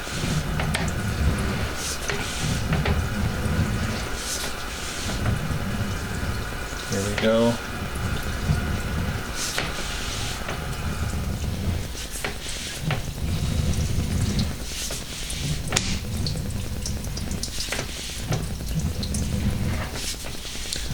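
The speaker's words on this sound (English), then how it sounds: "We just had a toilet flush." A toilet flush surging through a sewer pipe, heard as a steady rushing, gurgling water flow with bubbling, moderately loud throughout, with a person briefly talking over it.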